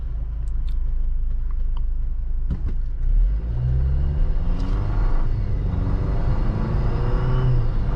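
From inside a 2021 Jeep Wrangler Rubicon pulling off the line, a loud steady engine drone rises in pitch through the gears, with a couple of clicks and rumble under it.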